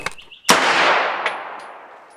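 A single sharp gunshot rings out from a Palmetto State Armory AK V, loud and close, followed by a short decaying echo and a faint metallic clink.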